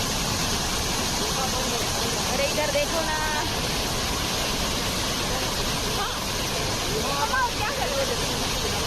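Tirathgarh waterfall sends out a steady, loud, unbroken roar of rushing water, with faint voices caught in the noise.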